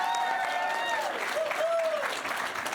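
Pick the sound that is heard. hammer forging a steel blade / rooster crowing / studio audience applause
studio audience applause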